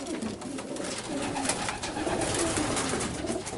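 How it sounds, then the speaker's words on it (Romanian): Racing pigeons coo softly and repeatedly at a pigeon loft over a constant rustling background, several birds close by, with no one talking. "Și din porumbei reposatului Glodeanu Anton."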